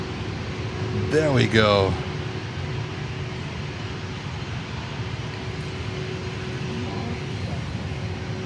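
An Atlas Air cargo airplane at Miami airport gives a steady, moderately loud engine drone, with a brief burst of talk early on and faint voices later.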